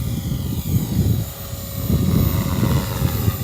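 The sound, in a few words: Walkera v450D03 RC helicopter flying in wind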